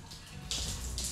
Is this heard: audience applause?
no